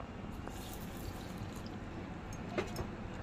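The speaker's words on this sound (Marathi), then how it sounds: "आणि आता आपण ह्याच्यात हे पाणी घालून" Water poured into a mixer jar holding dhokla batter with green chillies and asafoetida, a soft, steady trickle with a few faint drips, quiet and close.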